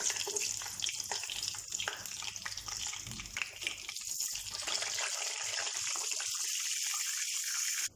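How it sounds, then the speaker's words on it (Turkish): Börek pastries frying in hot oil, a dense, steady sizzle and crackle filling the whole stretch, close and even, with faint kitchen clatter underneath and no talk. "Kızgın yağ içerisine böreklerimizi bırakalım."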